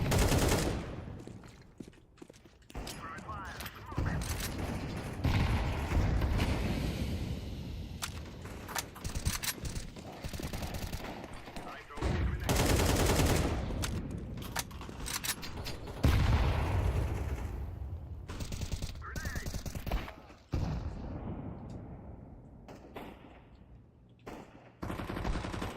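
Rapid AK rifle fire in a video game, bursts of automatic shots rattling loudly and almost continuously, with brief pauses between volleys and no talk.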